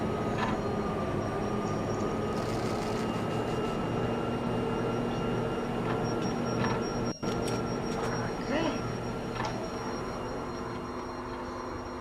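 A steady, droning rumble of a train running in the video game Max Payne, with a constant mechanical hum and faint clicks and tones layered over it, continuing unbroken throughout.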